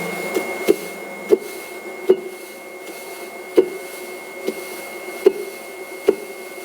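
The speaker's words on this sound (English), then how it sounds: "Get on there, tap centre it." A leather-hard clay mug being tap-centred on a spinning potter's wheel produces about nine sharp, close knocks at a steady, roughly regular pace over the wheel's continuous motor hum.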